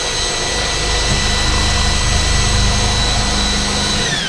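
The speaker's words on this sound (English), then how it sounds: "I drilled 5 bigger holes and 5 smaller holes" A power drill boring holes with a new drill bit whines loud and steady, a sustained high-pitched motor roar that holds for several seconds and eases off at the end.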